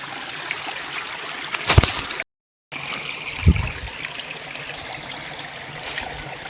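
Steady flowing spring water runs throughout at a shrine in a Konkan village, with a couple of brief louder knocks and a short silent gap partway through.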